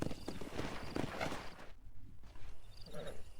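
Horse hooves clip-clopping in the video game Red Dead Redemption, a steady run of hoof beats under game ambience, with a brief quieter gap midway before the steps resume.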